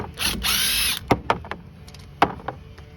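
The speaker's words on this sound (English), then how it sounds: "I like to use the impact on these." A pneumatic impact wrench rattles in one sustained burst of just under a second on the axle bolts of a junkyard Chevy Silverado axle, followed by several sharp metallic clanks and taps as the loosened parts are handled nearby.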